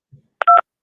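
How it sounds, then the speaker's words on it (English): A single cell phone keypad tone, one short two-pitched electronic beep after a soft tap, close and loud. "yes, Mr. Williams, I'm dialing the number."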